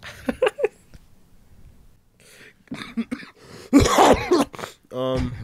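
A sharp sneeze bursts out amid people chatting, loud and close, followed by more talk.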